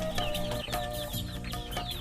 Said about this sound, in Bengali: আপনারা দেখতে পাচ্ছেন এটি আমার ছোট্ট একটি দেশি মুরগির খামার